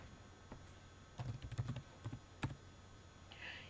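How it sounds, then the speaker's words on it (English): Typing a medication name on a computer keyboard in clinic software: a run of quick, close key taps in an irregular burst, then a couple of separate louder strokes, like hitting enter. "You type the medication in"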